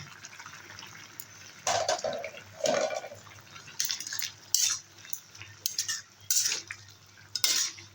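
Okra curry with fish roe simmers in a pan while a spoon stirs and scrapes it in irregular bursts, with soft bubbling and metallic clinks close by.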